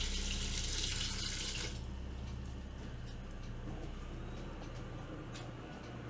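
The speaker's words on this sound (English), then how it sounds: "Just add a little distilled water." Distilled water runs steadily into a blender, a soft continuous trickle and splash that starts a little brighter and settles into a quieter, even flow, with no talking.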